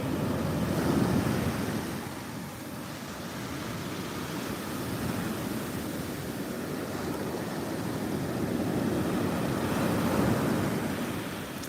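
Steady roar of ocean surf with waves washing in and swelling, mixed with gusty wind noise across the microphone.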